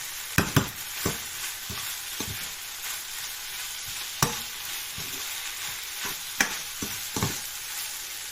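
Pork and curry powder being stir-fried in a hot pan, a steady sizzle broken by repeated scraping strokes of a spatula, fairly close and with no talking.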